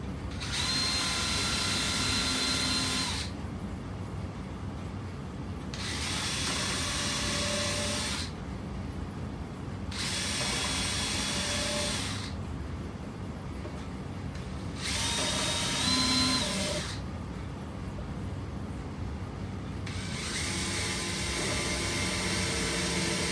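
A power drill drives screws into wood while building a kitchen potato and onion storage bin, running in four or five loud, sustained whirring bursts of a few seconds each, separated by short pauses, with no talking.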